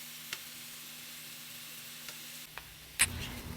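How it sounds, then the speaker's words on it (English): Chicken sizzles faintly and steadily in a pan, with a low hum underneath, soft scraping clicks as it is flipped, and a sharper clatter near the end followed by a brighter sizzle. "this is me just flipping the chicken"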